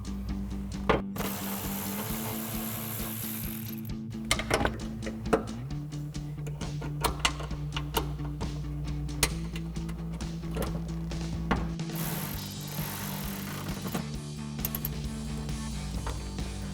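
A ratchet fitted with a 10 millimeter socket turns out a bolt on a 2016-2023 Toyota Tacoma front bumper, giving repeated clicking ratchet strokes under a steady mechanical hum that runs throughout.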